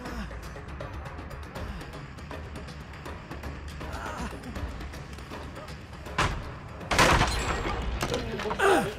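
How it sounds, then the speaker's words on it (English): A loud explosion bursts out in the Dead by Daylight video game, a sharp boom followed by a roaring rumble, over a busy backdrop of game noise and crackling. "Explosion."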